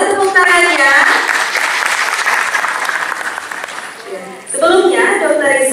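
Audience applause at an award ceremony for regional innovation in Aceh, loud continuous clapping for about four seconds, then a brief dip before a fresh burst of clapping with voices under it.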